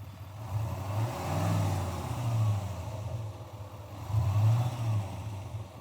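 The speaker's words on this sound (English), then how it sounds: "And I'll hit the gas so we can hear it, right?" A 2021 GMC Sierra 2500HD Denali Ultimate pickup engine idling, then revved twice with the gas pedal, a deep low rumble swelling and falling back, heard from close by with no talking.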